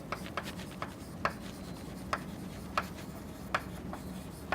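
Pen scratches on paper during a metallography tutorial, a soft continuous rasp broken by regular light ticks of strokes, close and quiet with no talking.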